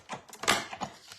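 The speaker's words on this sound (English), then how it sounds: "So we're just going to die cut those." A die cutting machine pressing paper shapes for a handmade card, heard as a brief, close run of clattering mechanical clicks and rasps lasting about a second, with no voices.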